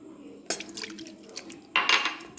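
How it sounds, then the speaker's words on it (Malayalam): Water and milk pour into a cooking pot in a kitchen, with a splashing burst, a few scattered drips and clinks, then a second brighter splash of liquid, all close and fairly quiet. "1/2 ഗ്ലാസ് വെള്ളം ഒഴിച്ച് 1/2 ഗ്ലാസ് പാലും ഒഴിച്ച്"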